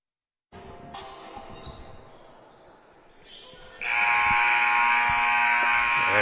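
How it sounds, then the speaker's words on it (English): A long, loud electronic halftime buzzer blares over arena crowd noise at a women's college basketball game, steady and sustained after a stretch of gym ambience. "There's the halftime buzzer."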